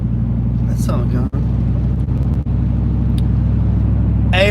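A car driving along a road, a steady low engine rumble and road noise filling the cab, with a few brief dropouts and faint voices, on the way to a junkyard.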